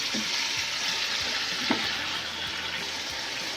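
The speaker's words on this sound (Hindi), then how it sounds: "अब हम इसकी थोड़ी सी बुनाई करेंगे। इसको मिक्स करेंगे इस तरह।" Beef trotters for paya are stir-fried with masala, giving a loud continuous sizzle close by, with a few soft knocks of the stirring spoon in the pan.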